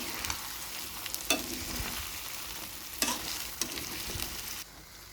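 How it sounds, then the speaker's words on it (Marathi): Paneer pieces being gently stirred into a sizzling masala gravy in a pan, with soft scraping strokes and a few sharper spoon knocks over a steady close sizzle, no speech. "पनीरला असं हलक्या हाताने मिक्स करून घेऊ."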